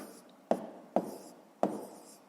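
Three separate strokes of handwriting numbers for a fifth-grade maths multiplication, each a quick scratchy scrape starting sharply and fading, close and quiet with short pauses between.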